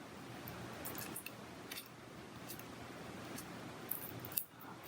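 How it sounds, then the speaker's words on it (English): Several quick, crisp snips of scissors cutting paper, spaced irregularly over a quiet room background. "Get my scissors kind of in the same place if I can."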